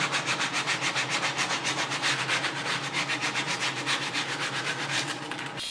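Hand sanding a wooden intarsia snowman hat, a steady back-and-forth rasping scrape repeated in an even rhythm, loud and close, with no voices.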